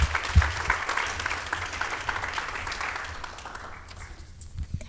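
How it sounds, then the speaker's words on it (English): Audience applause at a nonprofit awards ceremony, honoring Terry: steady clapping from a room full of people, strong at the start and thinning toward the end, with a few louder claps standing out. "All right, a round of applause for Terry, everybody."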